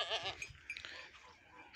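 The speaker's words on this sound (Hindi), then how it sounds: "ये बकरी भी रख ली आपने तो" A goat kept at a rural home bleats a few times at moderate distance, mixed with faint background noise.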